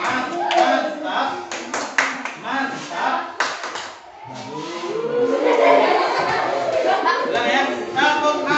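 A class of students claps out a patterned rhythm together in the classroom, crisp claps punctuating chanted voices, with talking and some laughter around them.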